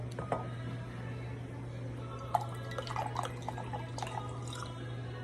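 Liquor is free-poured from a bottle into a glass in a hospitality training setting, giving faint trickling and drips with a few light clinks over a steady low hum.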